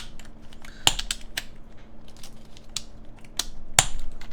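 Plastic keycaps clack and snap onto an ASUS ROG Azoth keyboard with Topre-style switches, a string of sharp, close clicks spaced irregularly over soft handling rustle.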